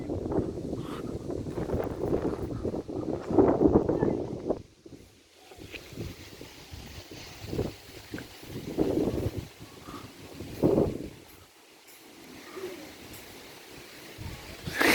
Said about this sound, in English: Sure, it's windy today.